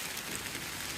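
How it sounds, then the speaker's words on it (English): Heavy rain falling in New York City during a wind storm, a steady dense hiss of drops on surfaces with no break over a single second, fairly loud and close. "It's raining."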